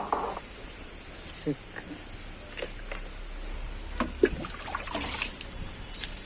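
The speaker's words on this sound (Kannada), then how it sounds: "ಇದು ಈ ಪೈಪಿನಲ್ಲಿ ಸ್ವಲ್ಪ ತೊಳೆಯುವ ಅಂತೇಳಿ" Water trickles and splashes unevenly from a hose washing mud off a motorbike, with scattered spatters and soft background noise, fairly close.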